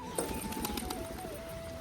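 Pigeons coo softly in the distance over a steady background hum, with faint scattered bird sounds and light splashing of pigeons bathing in water under a cloudy sky.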